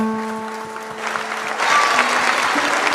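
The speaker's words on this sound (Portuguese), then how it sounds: "vamos dar para Jesus uma linda salva de palmas" Dense congregation applause at a church jubilee celebration, steady and loud, swelling stronger partway through, with a sustained organ or keyboard tone underneath at the start.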